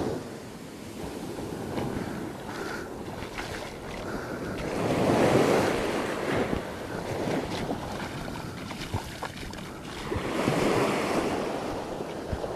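Sea waves wash and surge around someone wading into the sea, with breaking surf swelling louder in two broad rushes over steady wind buffeting the microphone.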